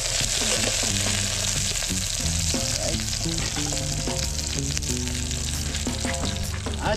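Leafy onions fry in a hot pan with a dense, continuous sizzle close up, while occasional light clinks of stirring sound through it.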